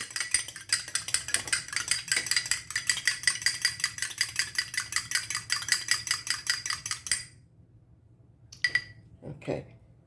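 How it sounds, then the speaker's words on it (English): Egg being beaten briskly in a bowl for crab cakes, a rapid steady rhythm of fork or whisk clicking against the dish for about seven seconds, followed by a pause and a few scattered clinks. "the first thing I'm going to do is go ahead and beat this egg up"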